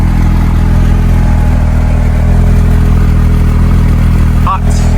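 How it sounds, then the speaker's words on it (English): A Porsche GT3 flat-six engine idles with a loud, steady, low exhaust rumble close by, holding an even drone with no revving. "You hear the engine idling there, it sounds nice, that exhaust."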